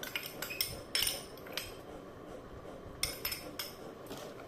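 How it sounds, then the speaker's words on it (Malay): A spoon stirring sugar and salt together in a bowl while preparing lemang: light scraping with sharp metallic clinks at irregular intervals, close and fairly quiet, with no talking. "Kacau dia sampai itu gula dan garam itu hancur."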